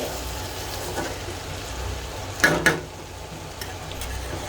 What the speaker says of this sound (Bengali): এই তো করলাতে কতগুলো কাঁচামরিচ কুচি করে দিলাম, কেটে মানে 2 ভাগ করে দিলাম। এখন এগুলি নাড়তে নাড়তে